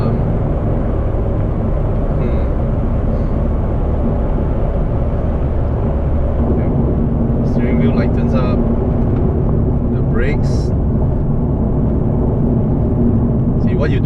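Mercedes-Benz CLS450 cruising on an open road at about 110 km/h, with a steady low road and engine rumble that stays even throughout, plus a few brief higher ticks; someone talks over it the whole time.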